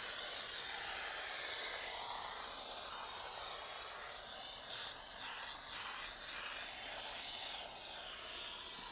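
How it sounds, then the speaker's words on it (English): A McCulloch MC1375 steam cleaner hisses steadily as it steams car carpet, a close, continuous breathy rush of steam with slight swells and no voices. "So you can steam just on the carpet itself"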